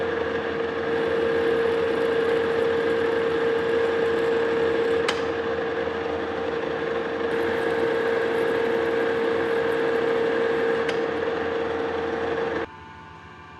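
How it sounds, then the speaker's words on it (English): A lathe single-point threading a steam locomotive valve rod runs as a steady machine hum with a strong whine for about twelve seconds, then cuts out abruptly near the end. "Let's cut those threads. I'm going to slow it down just a bit here."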